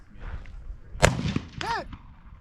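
A gun fires at a target during a shooting drill: one sharp broadband shot stands out near the middle, trailed by a tonal ringing ping like a struck steel target. Faint background noise fills the gaps.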